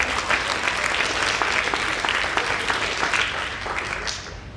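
An audience at a middle school prize day claps in sustained applause, a dense, even patter of many hands that carries on loudly and tapers slightly at the end.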